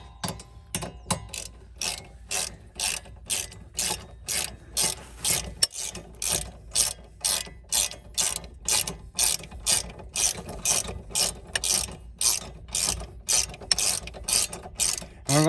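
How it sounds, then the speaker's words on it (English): A hand ratchet with an extension bar tightens the bottom corner bolt on a front wheel hub, giving a long run of steady, evenly spaced clicking bursts close to the mic with no talking. "tighten down this bottom bolt here in the corner real quick"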